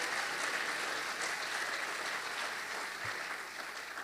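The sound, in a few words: congregation applause in church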